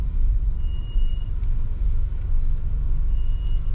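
Steady road traffic rumble on Ramaniya to Aziziyah Road in Al-Khobar at night, a continuous low drone of passing cars with faint brief hiss near the middle, no clear voices.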